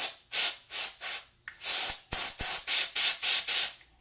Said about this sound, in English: use some canned compressed air to blow the debris out of there